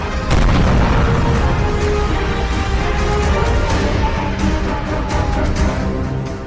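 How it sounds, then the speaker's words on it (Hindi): Heavy booming blasts from Israeli bombing in southern Lebanon, a sustained loud rumble of explosions throughout with no speech. "दक्षिणी लेबनान में ऐसे धमाके दिन रात हो रहे हैं।"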